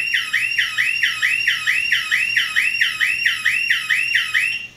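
A loud, piercing electronic siren from a security system base station cycles in a steady rising-and-falling whoop, repeating continuously with no voices.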